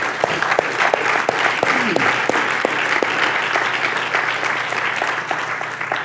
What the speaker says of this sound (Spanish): ¿Le das un aplauso al Señor por eso?